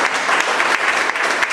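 A church congregation applauds, a dense, continuous clatter of many hands clapping at once that stays loud and even throughout.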